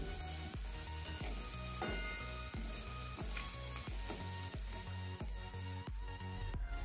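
Crab meat fries in hot oil with spices, sizzling steadily up close while a utensil scrapes the pan in a regular rhythm of repeated stirring strokes, with no voices.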